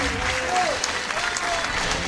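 Crowd applause at a billiards match, a sustained dense clapping from a large audience that carries on steadily throughout, with a commentator's voice faintly over it.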